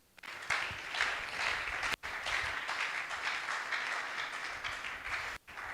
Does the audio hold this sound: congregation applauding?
yes